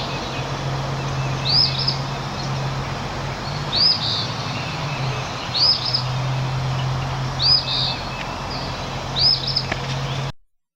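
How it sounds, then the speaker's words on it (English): An eastern phoebe gives its two-note call five times at a steady pace, fairly distant, over a constant low hum and background hiss. "The phoebe says its name,"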